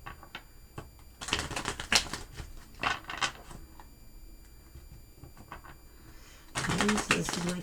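A deck of Cosmic Tarot cards is shuffled by hand in quick bursts of papery riffling and slapping, loud and close, with short quiet gaps between rounds.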